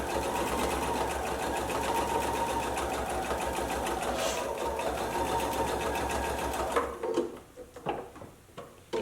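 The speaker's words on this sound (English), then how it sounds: "Take a little back stitch, and you don't need to sew all the way along the entire stocking," A sewing machine back stitches along the top opening of a fabric Christmas stocking, whirring continuously for several seconds before stopping, followed by a few soft clicks and handling sounds.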